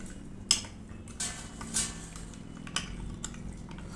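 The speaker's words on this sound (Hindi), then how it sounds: "और अब डालेंगे इसमें 2 चम्मच चीनी और इन सभी चीज़ों को हम अच्छे से मिक्स करेंगे" A spoon clinks against a bowl or cup while dry yeast and sugar are stirred together, a few separate metallic taps and scrapes at close range, with no talk.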